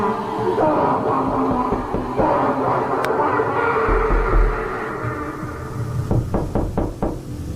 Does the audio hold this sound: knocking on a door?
yes